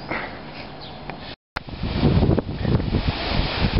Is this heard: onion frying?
no